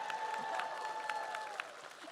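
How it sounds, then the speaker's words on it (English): A live audience at a Baldur's Gate 3 actor Q&A applauds with a soft, scattered patter of claps, heard faint and distant in the hall alongside a thin ringing tone. "Applauding a functioning microphone."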